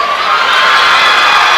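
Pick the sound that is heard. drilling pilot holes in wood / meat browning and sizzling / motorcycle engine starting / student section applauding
student section applauding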